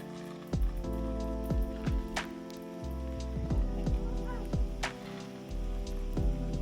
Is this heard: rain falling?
yes